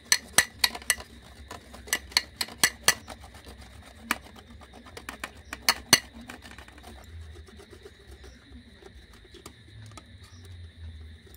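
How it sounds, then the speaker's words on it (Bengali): Cashew nuts rubbed one at a time across a metal grater give a series of sharp, close clicking scrapes in uneven rhythm, busiest at first and thinning out toward the end over faint background hum. "আমি একটা একটা করে গ্রেট করে নিচ্ছি।"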